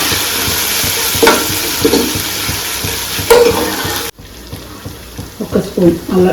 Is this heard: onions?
yes